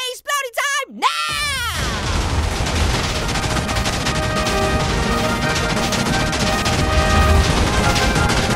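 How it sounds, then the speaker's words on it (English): TNT blowing up in Minecraft: after a short burst of exaggerated cartoon-style voice sounds, a dense, loud continuous roar of overlapping explosions rumbles on without pause. "All right, 50 Shades of TNT explodey time now."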